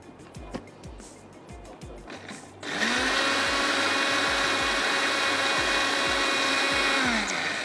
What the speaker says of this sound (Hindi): और अच्छे से ब्लेंड कर लेते हैं।